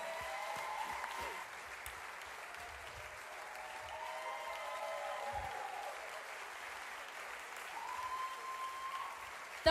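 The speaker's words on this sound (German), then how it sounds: "Großen Applaus!" Steady applause from a crowd at a live stage show, continuous clapping throughout with a few whistles rising above it, fairly distant and even in loudness.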